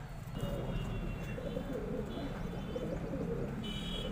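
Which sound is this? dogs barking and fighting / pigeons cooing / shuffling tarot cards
pigeons cooing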